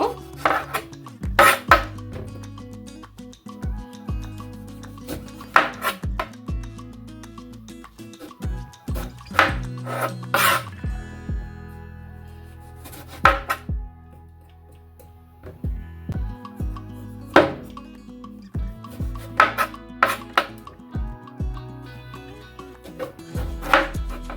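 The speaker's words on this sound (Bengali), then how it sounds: "বেগুনটা কেটে নেব" A knife cuts brinjal on a board in a series of sharp, irregular chops with short pauses between, close and crisp against a quiet kitchen.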